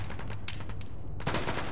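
Gunfire in a military video game: a steady rattle of rapid shots from several weapons that swells into a denser, louder volley toward the end.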